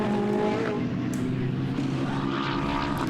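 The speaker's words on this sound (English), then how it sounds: "So Bentley's still blazing around the circuit" Race cars blaze past on the Nogaro circuit during GT sprint qualifying, a loud continuous engine roar with shifting pitch as cars pass close by, no voices over it.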